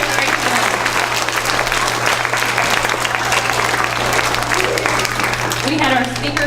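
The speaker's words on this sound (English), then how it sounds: "Let's give them a round of applause." A school assembly crowd gives a loud round of applause, dense continuous clapping from many children and adults filling the room, with a steady low hum underneath and a voice starting to speak near the end.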